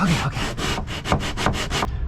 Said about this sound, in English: wrap the sandpaper around it, and you can really drive it up into those corners